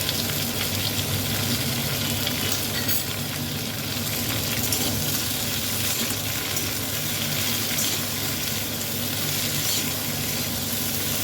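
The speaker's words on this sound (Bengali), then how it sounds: "এবারে সেই গ্রেট করা আদাটা এর মধ্যে দিয়ে দিলাম।" Grated ginger hits vegetables already frying in a pan for a Bengali chochhori, giving a steady, close sizzle that runs without break under a soft hiss of steam, with no voices.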